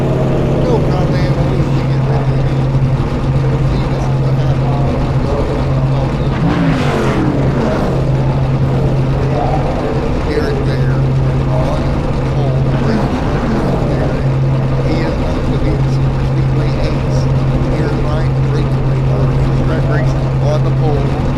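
A field of stock race cars in the Freedom Racing Gen6 Cup Series at North Wilkesboro, engines droning steadily and loudly as the pack rolls off to start the race, with a voice talking over the constant roar.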